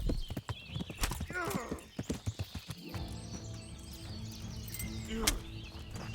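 Horse hooves clopping in a medieval game, a quick run of sharp hoofbeats followed by a steadier rumbling stretch, with other game sounds mixed in.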